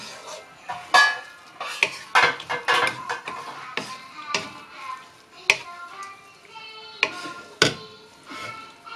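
A utensil scrapes and clacks against a pan while green gram is stirred into banana flower thoran, giving irregular sharp metallic knocks and scrapes with short pauses between strokes.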